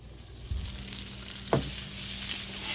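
Portobello mushrooms and red onion sizzle steadily in a hot pan, a continuous close frying hiss with a couple of sharp bumps as more onion is tossed in, no talking.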